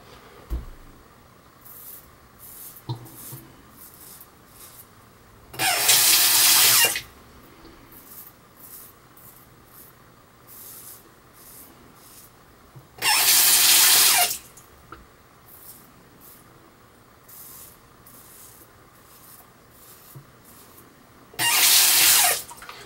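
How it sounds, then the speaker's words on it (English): Bathroom tap water rinsing a razor blade between shaving strokes, arriving as three short loud gushes spaced apart, with quiet gaps of faint scraping and handling in between. "we're going to rinse the blade after each swipe"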